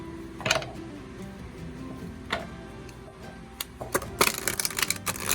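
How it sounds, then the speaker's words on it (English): An oracle card deck is shuffled by hand, giving soft papery riffles with sharp crisp flurries of card snaps, close and quiet, ending in a dense burst of rapid clicks. "Look at that beautiful shuffle."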